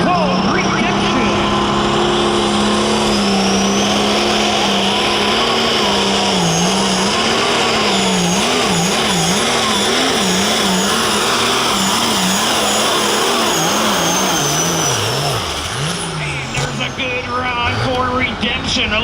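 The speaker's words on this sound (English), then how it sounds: "our lead-off test took the tractor called Redemption" A light limited super stock pulling tractor roars down the track at a tractor pull, its engine droning loudly and wavering in pitch as it bogs and surges, while an announcer talks over it.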